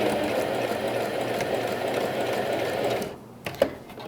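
A sewing machine stitches a pet bandana in a continuous close whirring run of about three seconds, then halts, followed by a few faint handling clicks.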